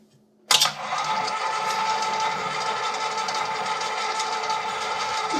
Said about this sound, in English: This is the ProLine 7 KitchenAid 7-quart ProLine stand mixer.